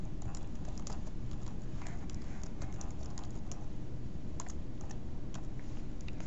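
Steady, rapid keyboard typing, close and alone, as a glossary definition is entered; quick uneven clicks of keys continue throughout without pause.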